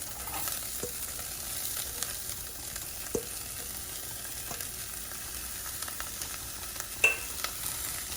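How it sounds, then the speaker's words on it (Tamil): Quiet, steady sizzling of chopped coriander and grated coconut sautéing in a pan, with occasional soft clicks and stirring scrapes, no voices. "இது டக்குன்னு 1 நிமிஷம் வதங்கினாலே போதும்"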